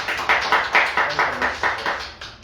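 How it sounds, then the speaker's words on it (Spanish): An audience applauding a speaker named Carlos at a talk, a loose series of about a dozen distinct hand claps that gradually fade, with no talking over them. "a lo mejor un aplauso para Carlos"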